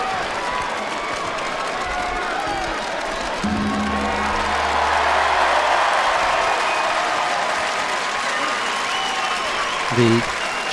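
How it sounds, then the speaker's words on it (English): Arena crowd at the Paris Grand Slam judo cheering and applauding a French winner, a broad roar that swells midway, with voices and a brief low hum over it. "The cheer that you can hear in the background is for Roman Dicko of France"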